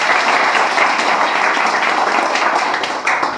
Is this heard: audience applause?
yes